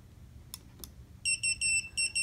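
A GemOro Ultra Tester 3 Plus gem tester sounds its moissanite alert: a rapid series of five loud, high electronic beeps, preceded by two faint clicks against quiet background hum.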